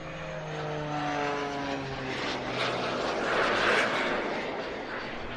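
A propeller aircraft flies aerobatics at an airshow in Leszno, its engine droning and shifting pitch as it passes at a moderate distance, then swelling into a louder rushing roar near the end.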